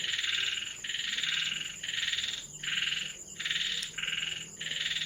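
Frogs croak around a pond just after rain, a loud, close chorus of buzzy calls pulsing in regular bursts with short gaps, steady throughout and with no voices.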